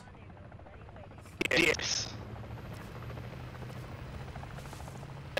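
Helicopter in a video game whirs with a steady low rotor drone under talk, broken by a brief sharp burst of game noise.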